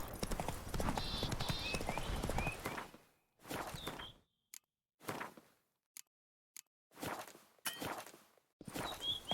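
Hoofbeats of the horse Roach in The Witcher 3, a fast clip-clop gallop at first that slows into separate, spaced hoof strikes between brief silences, close and clear with faint game ambience.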